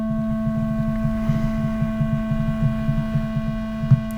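A pure sine-wave hum pushed through a distortion pedal as its boost is raised, giving a steady, loud buzzing drone with stacked harmonics and a faint pulsing throb underneath, with no voices.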